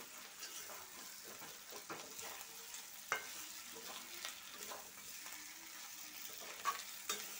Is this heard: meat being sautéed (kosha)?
yes